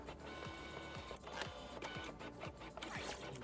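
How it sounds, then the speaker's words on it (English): A printer whirs and clicks inside a video game, a steady mechanical run with repeated short rhythmic strokes, up close amid game ambience. "I hear the printer."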